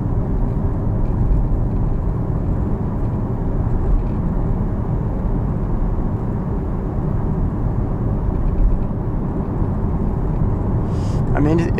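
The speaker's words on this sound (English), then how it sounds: "Just wind and tire noise." Steady broadband road roar and wind rush inside a Porsche Taycan Turbo S electric car driving at night in rain, continuous and even with no engine note, faint talking mixed in.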